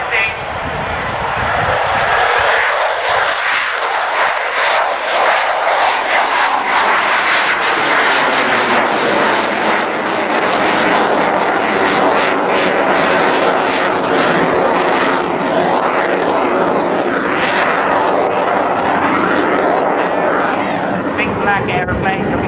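A loud propeller airplane roars past close by, its engine drone swelling and shifting in pitch as it flies over, sustained throughout.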